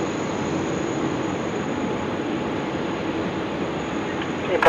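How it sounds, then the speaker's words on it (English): Airbus A350-900 rolling for takeoff on runway 16 right at Sydney Airport, a steady distant jet engine roar that holds constant and swells slightly at the end. "It's the A350-900. He's now rolling up for 16 right."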